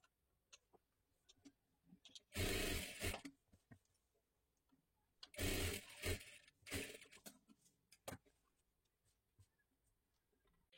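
A sewing machine runs double stitching on the tucks of a size 28 katori blouse in a few short, separate bursts, with quiet pauses and faint handling noise between them.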